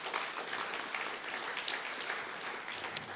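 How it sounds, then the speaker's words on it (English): A public meeting crowd applauds the Veritas team during a Fayetteville Cultural Arts Corridor session: steady, dense clapping from many hands, even in level throughout, with no speech on top. "Let's give them a big round of applause tonight."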